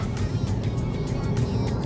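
BYD Seal electric car accelerating in sport mode, a continuous low road and motor rumble heard from inside the cabin, steady and fairly loud without speech.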